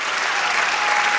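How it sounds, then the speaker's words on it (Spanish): Church congregation clapping during a sermon, a brief dense burst of many hands applauding together, close and loud for about a second. "¡Dale aplauso!"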